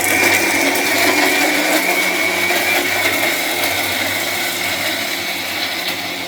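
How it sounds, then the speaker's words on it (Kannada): A kitchen mixer grinder whirs steadily while grinding fish curry masala with tamarind water, a loud, even motor drone with a rattling edge that runs unbroken throughout and fades slightly toward the end. "ಇದನ್ನ ಈಗ ಮಿಕ್ಸಿ ಹಾಕಿ ಸಣ್ಣಗೆ ರುಬ್ಕಣಕ್ಕೆ"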